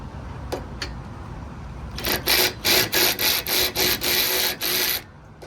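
A Hyper Tough 12V cordless ratchet tightens 11mm bolts on a trailer in a run of about eight loud, evenly spaced motor bursts with short gaps, close up, after a couple of faint clicks.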